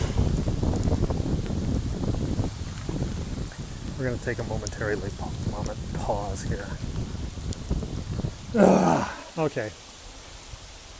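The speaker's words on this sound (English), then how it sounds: "it's raining because this is Typhoon NIDA" Wind gusts and steady rain from Typhoon Nida buffet the microphone on a hilltop in Hong Kong, a loud, continuous rushing roar with one heavier blast near the end, as someone talks over it.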